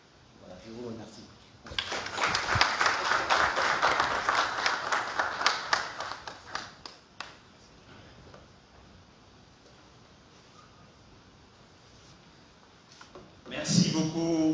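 An audience at a press conference in Chad breaks into loud, sustained applause for several seconds, many hands clapping together, then it thins into scattered claps and room noise before a brief burst of sound at the end.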